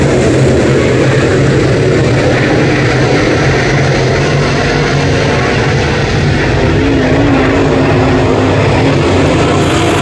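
Race cars roaring under green flag racing at Brownstown Speedway, a loud, dense, continuous engine drone that fills the whole stretch without a break.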